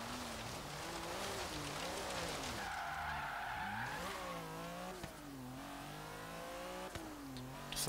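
A 1982 Lancia 037 Stradale slides on an autocross course in Forza Horizon 3. Tires squeal and skid continuously while the engine note rises and falls with revs, loud and close, with no speech.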